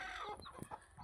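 Village hens cluck in short, choppy bursts close by, with a few rising calls mixed in, over about a second of farmyard sound.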